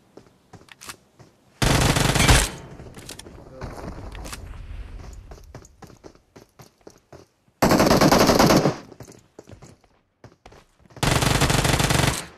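Automatic gunfire in the battle royale game PUBG Mobile, three loud sustained bursts of rapid shots separated by quieter clicks and footsteps, with faint voices in between.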